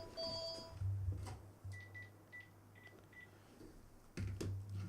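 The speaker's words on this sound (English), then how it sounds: "Bloody house phone goes off." A house phone ringing faintly in the background, a few short electronic tones and beeps spread across a quiet room hum.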